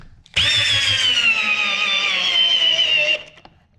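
A power drill whirs steadily for about three seconds, starting abruptly and stopping cleanly, its pitch dipping slightly under load.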